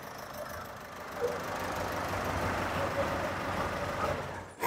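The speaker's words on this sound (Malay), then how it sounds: "mungkin engine ini bising" An engine idles steadily during solenoid testing, a continuous low rumble with a slight knocking texture, fairly close and unbroken until a brief clunk at the very end.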